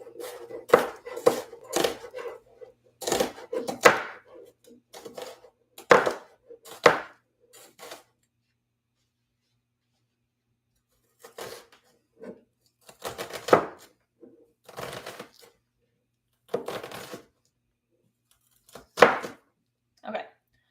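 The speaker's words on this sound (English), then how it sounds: "I'm just cutting up a little bit of onion." A knife chops onion on a board in quick bursts of crisp, close taps, pausing between runs of strokes, with no talk over it.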